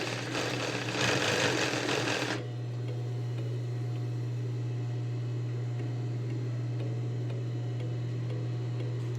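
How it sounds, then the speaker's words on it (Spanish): A sewing machine runs steadily for about two seconds while stitching a folded hem on a woman's shirt, then stops, leaving a low constant hum. "aseguro que quede bien y paso la costura."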